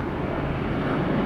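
An airliner taxiing for runway 19 right at Tampa airport, a steady broadband jet engine rumble and roar, fairly loud and continuous, without talk.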